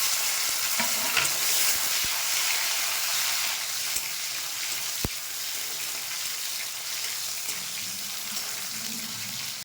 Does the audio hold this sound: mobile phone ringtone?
no